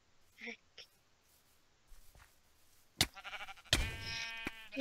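Cartoonish sheep bleats from the video game Sheep Quest, a short faint bleat early on and then a louder, wavering bleat near the end, with players talking over the game audio.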